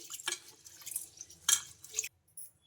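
Split black gram lentils are swished and rubbed in water in a bowl, giving short splashy, dripping bursts with brief pauses between.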